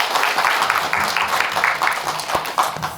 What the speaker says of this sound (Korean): 여러분 박수 한번 주십시오.